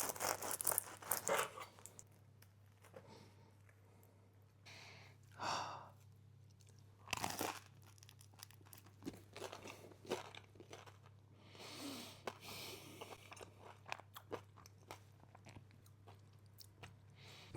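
Espresso chocolate sourdough bread being bitten and chewed close up, with a few crunchy bites and quieter mouth sounds spread out over a faint steady background hum, no talking.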